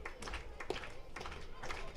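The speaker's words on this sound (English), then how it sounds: "Fans starting to clap for their pitcher." Baseball fans in the stands at an IBL playoff game between the Toronto Maple Leafs and Guelph Royals clap for their pitcher in short bursts of applause from a distance, mixed under a commentator talking throughout.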